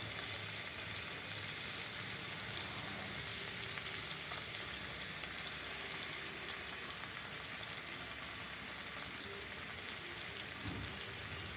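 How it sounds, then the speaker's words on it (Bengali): Chicken frying in a pan with ginger-garlic paste for chicken green chowmein, a steady close sizzle that holds evenly throughout with no talking. "চিকেন দিলাম বাটা আদা রসুন দিয়ে দিলাম"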